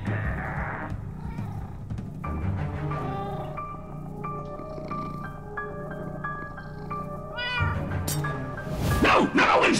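Cat in the video game Minecraft: Story Mode meowing several times in a row, loud and close, drawn-out wavering cries over a steady game background, ending in a harsher yowl.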